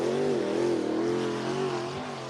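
A dirt track race car runs a qualifying lap at Cottage Grove Speedway in Oregon, its engine droning steadily at high revs from mid-distance, slowly fading slightly toward the end.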